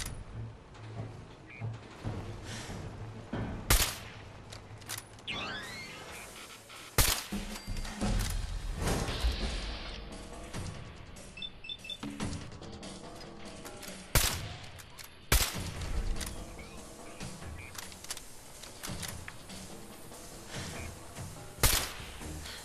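Ship cannons on the USS Constitution firing in Fallout 4, a series of heavy booming shots with sharp cracks spread irregularly across a noisy battle scene, some louder and closer than others.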